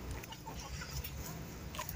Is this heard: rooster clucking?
yes